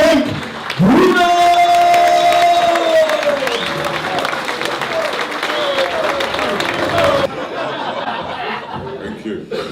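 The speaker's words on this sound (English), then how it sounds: "please give a massive round of applause" A theatre audience applauds and cheers to welcome former WBC heavyweight boxing champion Frank Bruno, a loud sustained roar of clapping with whoops and laughter, a voice briefly heard over it before the clapping thins out.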